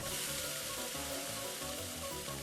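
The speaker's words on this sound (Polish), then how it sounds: "Aha, to on się jakoś tak dłużej smaży chyba" Dense, steady sizzle of golden fried chicken frying in the cooking game Cook, Serve, Delicious, a constant crackling hiss that carries on quietly with no voices.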